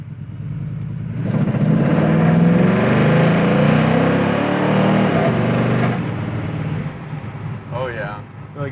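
A 1969 Camaro engine swells into a loud rumbling surge as the car pulls away, holds a throaty drone, then eases off, with people talking over it.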